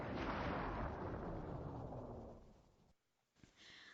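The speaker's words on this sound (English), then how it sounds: "There was a sudden explosion." A sudden explosion in the visual novel OZMAFIA!!, a heavy rumbling boom that slowly fades over a few seconds, then cuts to near silence before faint ambience returns.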